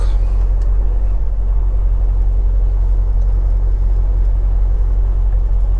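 A car drives along a road in New Brunswick, Canada, with a steady, loud low rumble of engine and tyre noise that holds without a break throughout.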